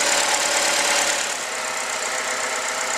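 A 2008 Chevrolet Malibu engine idles steadily after an oil change, a continuous close hum with a bright mechanical whine and slight ticking, unchanging and with no talk.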